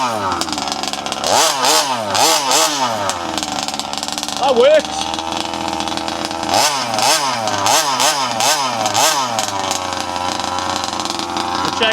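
A large gas-powered RC car engine buzzes loudly nearby, repeatedly revving up and dropping back in wavering surges between steadier idling stretches, with a person speaking briefly over it.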